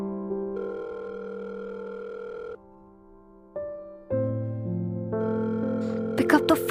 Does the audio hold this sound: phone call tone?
yes